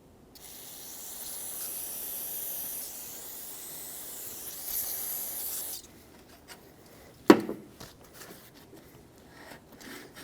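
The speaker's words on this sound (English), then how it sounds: "Blow this off or rinse it with some brake parts cleaner." Aerosol brake parts cleaner sprays in one sustained hiss lasting about five seconds onto the tailgate latch area of a 2007-2014 Chevrolet Silverado pickup, followed by a single sharp clunk and quiet rustling.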